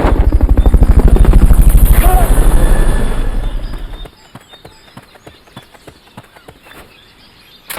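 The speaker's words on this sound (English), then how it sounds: "Fulton recovery subject confirmed onboard helicopter." A helicopter in the Metal Gear Solid: Peace Walker video game beats loudly with steady rotor thumps, then fades away, leaving light rhythmic footstep-like ticks; a voice briefly speaks over it.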